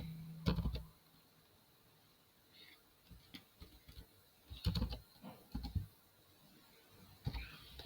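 Clattering keystrokes on a computer keyboard while code is typed in a programming editor, coming in short uneven bursts with pauses between, fairly quiet and close.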